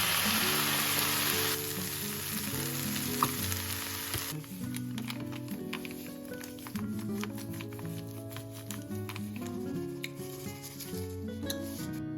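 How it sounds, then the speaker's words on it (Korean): Loud, steady sizzling of anchovies stir-frying and being stirred in a pan, with background music playing underneath. "요거 멸치볶음 하려고요."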